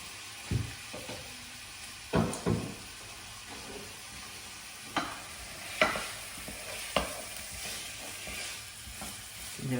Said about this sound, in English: You want to sweat the onions, give them a nice color.